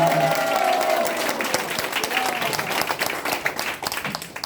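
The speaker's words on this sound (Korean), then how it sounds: "박수 한번 하겠습니다." An audience at a Korean press conference for a district mayoral candidate claps together, a dense burst of applause that thins out and grows more scattered, with a voice briefly audible at the start.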